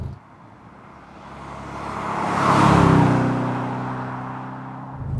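Manual C5 Audi RS6 under hard acceleration, a deep engine note climbing in pitch and loudness to a peak, then easing as the revs settle, heard steadily with no talk.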